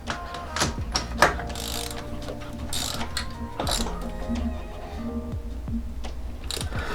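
A ratchet with a 1-inch socket tightening an oil cooler delete fitting into an iron engine block, repeated metallic clicking strokes in an uneven rhythm, close up, with faint talk underneath.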